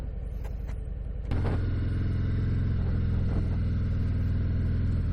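A 2019 Harley-Davidson FXDR motorcycle idles with a steady low rumble, then the engine swells louder and stays as a close, continuous throaty drone as the bike rides off, with no voices over it.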